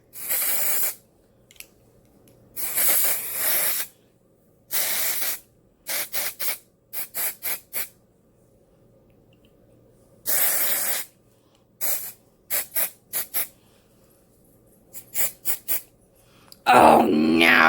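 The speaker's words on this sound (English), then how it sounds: "With just a little bit of gray spray paint" Loud aerosol gray spray paint hissing onto hair in bursts, some long and some in quick short puffs, separated by silence, ending with a louder noisy rustle.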